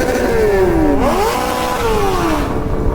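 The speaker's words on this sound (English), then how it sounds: "I got to hear two R6s screaming at the rev limiter." A Yamaha R6 sport motorcycle screams high near its rev limiter, the pitch dipping and climbing again as a second engine joins, loud and close with no talking.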